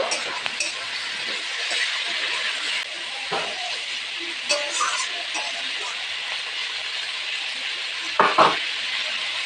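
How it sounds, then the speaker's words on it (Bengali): Cauliflower and potato pieces fry in a pan with a continuous moderate sizzle, broken by scattered clinks and scrapes of stirring and a couple of louder utensil knocks near the end; no clear talk. "এরপরে ফুলকপি আর আলুটাকে ভালো করে ভেজে নেব"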